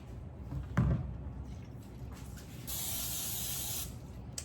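A soft clunk, then a short steady hiss of olive oil cooking spray lasting about a second over a sink, fairly close and quiet.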